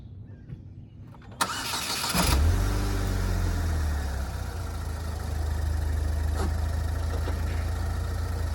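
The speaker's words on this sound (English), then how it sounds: "So the 2-liter Ecotec inline 4 with the turbo running now." A 2009 Saturn Sky Redline convertible with a 2-liter Ecotec turbocharged inline-four and 5-speed manual cranks briefly, catches with a loud flare, then settles into a steady, close idle. No one talks.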